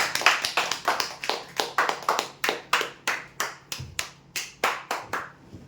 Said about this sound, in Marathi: जोरदार टाळ्या होते यांच्यासाठी